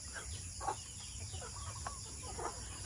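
A hen on a rural province homestead gives several short soft clucks, close by, over a steady low background hum.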